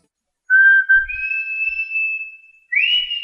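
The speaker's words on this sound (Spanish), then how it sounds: "Bueno, voy a silbar una canción." Someone whistles a song tune solo: clear sustained whistled notes, a long held pitch rising to a higher one, a pause, then another rising note, close and loud in a silent room.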